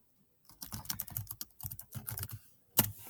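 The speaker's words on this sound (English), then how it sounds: "type your answers in this space" A brief burst of fast keyboard typing while answers are entered into a document, with close, crisp clustered key clicks and short pauses, then a final sharp keystroke, all alone without any voice.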